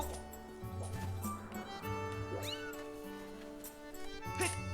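A cat meows in the video game Zelda Skyward Sword, with short tonal calls rising over steady game music and effects, at moderate loudness.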